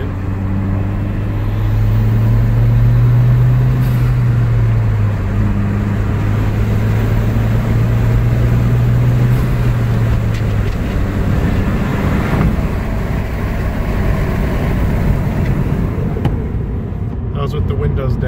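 Hyundai Genesis fitted with an intake and stock blow-off valve driving with the windows down, low engine hum swelling and easing under broad wind and road rush that grows louder toward the end.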